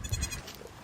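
Baby goats give a brief, faint bleat at close range, a quick wavering cry under a second long with no speech.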